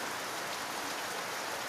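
Heavy rain pouring steadily in the southern part of Sukabumi city, a dense continuous hiss with no voices, fairly faint and even throughout.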